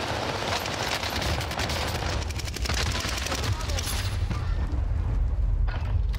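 Rapid bursts of automatic gunfire in the video game Call of Duty Warzone rattle continuously over a low rumbling background, with a dense, sustained battle-like clatter and occasional heavier thuds.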